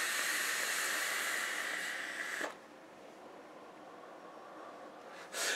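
Vapour exhaled from an e-cigarette with a fresh pomegranate-flavoured liquid gives a steady, breathy hiss for about two and a half seconds, then drops to a faint background before a short puff of air returns at the end.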